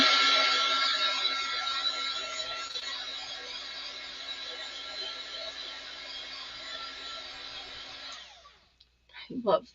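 A heat tool blows steadily and loud for about eight seconds while heat-setting freshly stamped gray ink, then cuts off, leaving brief handling noises.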